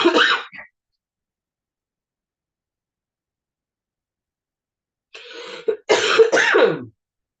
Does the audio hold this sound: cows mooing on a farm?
no